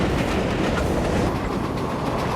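A New York City subway train roars past at close range, a dense, loud rumble of wheels and carriages with a continuous clattering rhythm and no voices.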